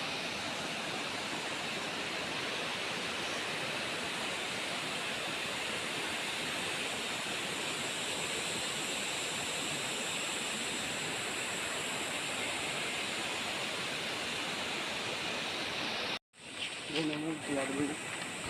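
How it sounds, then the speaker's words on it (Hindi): A river rushes far below a well, a steady, loud broadband roar that fills the whole clip before cutting off near the end, where faint voices briefly follow. "ये देखो फ्रेंड्स, यहाँ पर देखो कुएं पर नीचे नदी है।"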